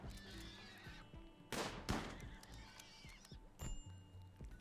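A horse whinnies in the colony game Rimworld, two loud bursts amid sharp gunshot-like cracks and scattered clicks, with a faint background hum.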